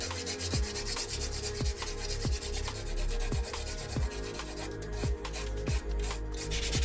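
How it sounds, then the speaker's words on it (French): A 120 grit nail file rubs across a fingernail in quick, regular back-and-forth strokes, close and crisp, repeating about twice a second with a dry scratchy texture. "Et avec la lime 120, je vais revenir faire le corps de l'ongle."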